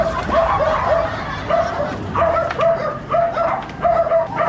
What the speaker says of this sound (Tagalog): Ay, madami pala silang aso dito.